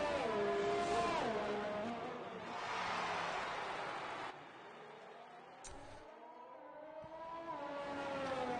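Faint F1 2019 safety car engine hums in an online race at the Hungary circuit, a steady whine rising and falling in pitch as it revs, with a sharp drop in level midway.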